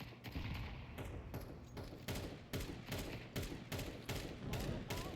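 Rapid gunfire in a video game, a long run of sharp, evenly spaced shots with brief gaps, loud and dense, like automatic weapons firing in bursts.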